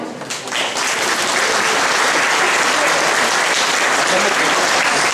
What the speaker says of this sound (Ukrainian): Привітаємо їх палкими оплесками.